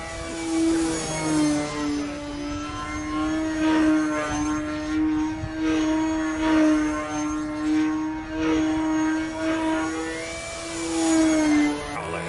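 A Prowler control line model airplane in flight, its small glow engine giving a loud, steady buzzing drone that swells and fades gently as the plane circles, with no talk.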